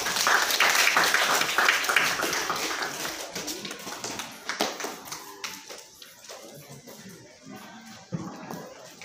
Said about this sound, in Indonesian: Ya oke, tepuk tangan yang simbolis kepala ini.